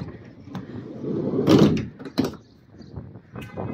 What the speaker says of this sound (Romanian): Ușa culisantă pe dreapta.